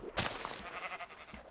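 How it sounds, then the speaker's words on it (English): A Minecraft sheep lets out a short bleat near the start, followed by quieter game ambience, with no speech. "Jeez, sheep, you scared the crap out of me"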